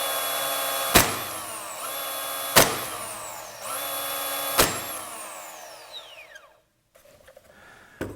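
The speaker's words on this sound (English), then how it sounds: "On this DeWalt DC608 gun, for instance, DeWalt uses a flywheel mechanism to do the work." A DeWalt DC608 cordless brad nailer spins its flywheel up with a rising whine and fires with a sharp crack, three cycles in a row, close and loud, then the whine winds down to quiet.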